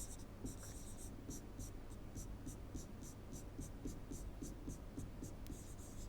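Marker or chalk writing on a board during a lecture on finite automata grammar, with faint, rhythmic strokes and taps in quick succession over a constant low electrical hum.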